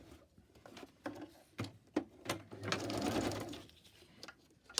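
A sewing machine stitching a zigzag on fabric scraps, with short bursts of rapid mechanical whirring and clicks separated by pauses, close and fairly soft.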